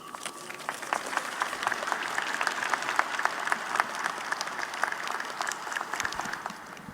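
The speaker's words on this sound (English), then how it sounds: "A warm round of applause for the GA official" Audience applause at an Eid celebration held at Croke Park, with steady, moderately distant clapping from a gathered crowd that continues evenly throughout.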